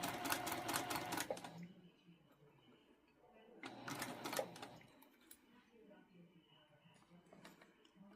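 Sewing machine locking stitches on a tea towel being made into a quilted pillow cover, with two rapid mechanical stitching bursts of about a second each, fairly quiet, with a voice speaking softly between them.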